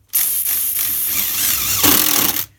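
A power screwdriver drives self-tapping screws into the casing of a silicone mold, a single loud, steady motor whir of just over two seconds that stops abruptly.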